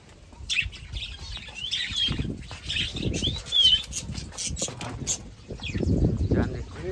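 Pigeons flapping their wings in bursts of soft fluttering, with chirps from small birds in the background and people talking throughout.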